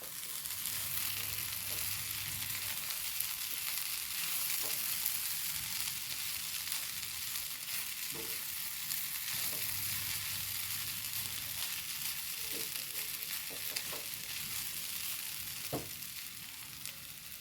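Ridge gourd and prawn thoran stir-fried in a pan, a steady close sizzle with soft scraping stirs now and then, alone without talk.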